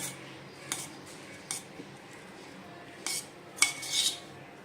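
Sago soaked five hours is loosened in a dish with a spoon, giving a few light, sparse clinks and scrapes of metal on the dish against a quiet background.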